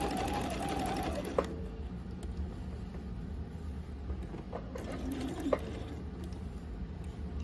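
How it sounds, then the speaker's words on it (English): A sewing machine steadily stitches a seam on a fabric breast form, a quiet continuous hum with a couple of small clicks, and a faint background coo like a dove. "We will want to add some back stitching at this point."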